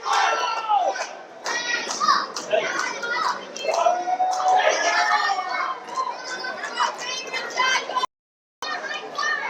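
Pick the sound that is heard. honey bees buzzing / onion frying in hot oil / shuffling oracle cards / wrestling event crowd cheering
wrestling event crowd cheering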